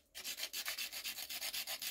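A blade saws through soft, brittle sandstone in quick, rhythmic back-and-forth strokes, a close, gritty rasp repeating steadily with no voices.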